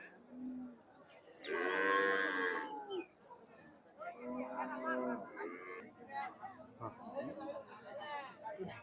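Cattle and calves moo loudly and repeatedly, long drawn-out lowing calls close by, with people chattering in the background of a busy livestock market.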